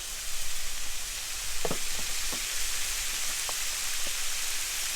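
Bok choy stir-fries in a hot wok for char kuey teow, giving a steady, hissing sizzle with a few faint clinks and scrapes scattered through it, close and even throughout.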